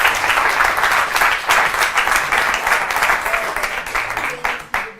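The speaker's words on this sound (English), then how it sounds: "Let's give them a round of applause." An audience bursts into steady applause for performers at a live magic tutorial event, dense clapping sustained throughout and thinning slightly toward the end.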